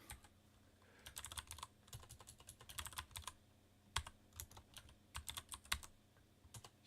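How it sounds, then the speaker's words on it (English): Close, quiet typing on a computer keyboard during game development work, bursts of rapid key clicks separated by short pauses, with no voice over it. "They're typing all over the place."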